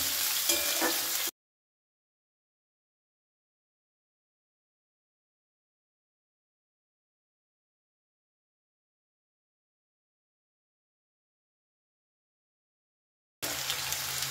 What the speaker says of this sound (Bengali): আলুটাকেও কিন্তু একটু ভাজা ভাজা মতো করে নেব।